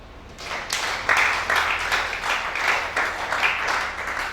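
Church congregation at a worship service breaks into rhythmic applause, a full room of clapping that swells and pulses in repeated bursts, fairly loud and sustained without speech over it.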